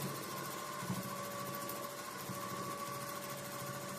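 Sewing machine running steadily during free motion quilting on a small hoop quilt frame, a continuous even motor whir with a faint stitching rhythm, moderately close and without talk.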